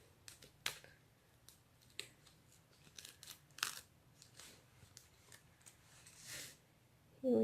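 Scissors trim a strip of paper in crafting, giving a series of sharp, faint snips and rustles scattered irregularly across a quiet room.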